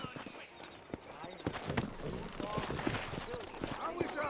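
Horse hooves clip-clopping in a steady rhythm in Red Dead Redemption, close and moderately loud, mixed with game sound effects.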